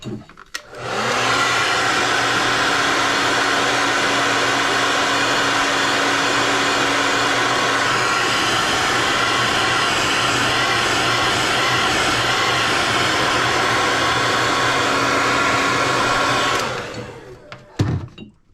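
A heat gun blows steadily for about fifteen seconds, heat-setting fresh pearl paint on a pike crankbait, a loud close airy whoosh with a humming motor tone that starts and stops abruptly.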